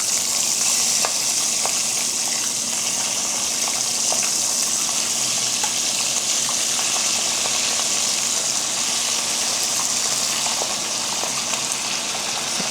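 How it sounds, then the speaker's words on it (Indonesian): Seasoned chicken for a Madurese dish sizzles steadily as it fries in hot oil in a pan, a continuous loud crackle with small pops and no talk. "Nah ini ayamnya sudah matang ya. Sekarang kita goreng."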